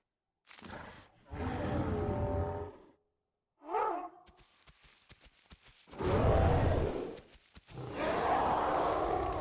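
Dinosaur calls from The Isle survival game, a series of loud roaring and growling bursts separated by short pauses, one higher bellowing call in the middle, with no talk over them.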